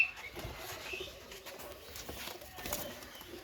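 Pakistani Teddy pigeons coo softly and steadily, faint low murmurs with some light rustling.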